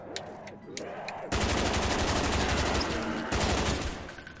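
Rapid automatic fire from a big, heavy weapon in Black Ops Zombies bursts in after a short lull with faint clicks, then rattles on in long dense volleys with a brief break.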